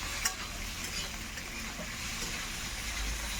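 Chicken frying in a pan for chicken chow mein gives a steady, fairly quiet sizzle with faint stirring scrapes throughout, with no voices.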